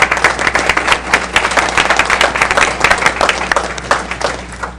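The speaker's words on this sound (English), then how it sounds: "can you join me in a round of applause?" An audience at a telecom policy workshop breaks into a full round of applause, dense steady clapping from many hands that stays loud and even for the whole stretch.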